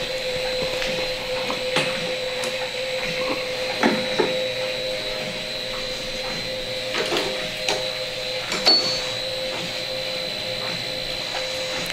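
An 1860s Pratt & Whitney rifling machine runs in a workshop with a steady mechanical hum and whine, broken by sharp intermittent clicks and knocks at irregular intervals, heard alone at moderate level.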